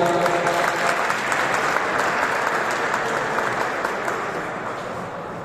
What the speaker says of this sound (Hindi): ऐसे साहब के लिए भरपूर तालियां